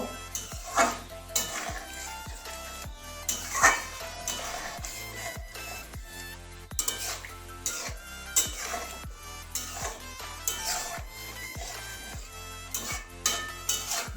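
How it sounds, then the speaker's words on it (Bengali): A spoon stirs papaya and mung dal, cooked with spinach, in a pot, giving irregular clinks and scrapes against the metal over a soft simmering sizzle, close by. "পেঁপে আর ডালটা দিয়ে দেবো ভালো করে মিশিয়ে দেব"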